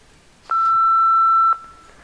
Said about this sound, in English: he did leave a message on my answer phone